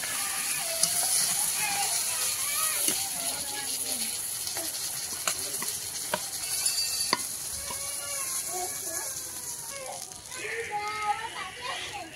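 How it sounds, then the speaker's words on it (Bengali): Fried pangas and tangra fish are lifted out of hot oil in a kadai, with steady sizzling, scraping and clinking of the utensil against the pan, while a voice talks over the cooking. "এবার তুলে নেবো মাছ ভাজাগুলো।"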